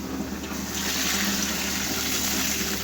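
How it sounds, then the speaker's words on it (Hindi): Water pours into a cooking pot of fried spices for a potato khichdi baby food, a steady, rushing splash that runs through the whole short clip. "अब हम डाल लेंगे पानी।"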